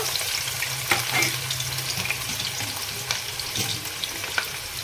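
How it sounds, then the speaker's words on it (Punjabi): Chopped onions hiss and crackle in hot oil in a home kitchen pan, a steady close sizzle with a few soft clinks and stirring scrapes, no talking. "ਤੇਲ ਗਰਮ ਹੋ ਚੁੱਕਾ ਹੈ ਇਸ ਵਿੱਚ ਹੀ ਪਾਵਾਂਗੇ ਪਿਆਜ਼"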